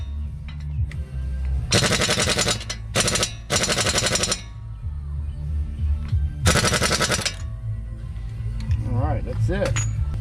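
Impact wrench tightening the front hub nut on a Ford F-150 during a rotor and bearing job, firing in three loud rattling bursts with a later fourth burst and short pauses between, over low background hum and brief talk.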